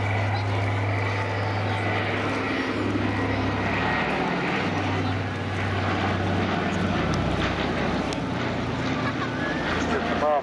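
A Consolidated Catalina flying boat drones steadily overhead at an air show in Portrush, its propeller engines a continuous low hum with broad rushing noise at moderate distance, while someone talks over it.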